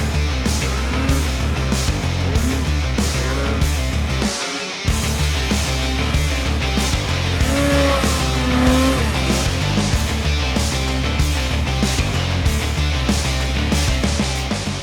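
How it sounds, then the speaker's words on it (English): A 2021 Yamaha Mountain Max snowmobile with a 165-inch track and 3-inch lugs, ridden hard through snow, its engine roaring loud and steady close by with a brief dip in the middle before climbing again. "we're out ripping around on this 2021 Yamaha Mountain Max"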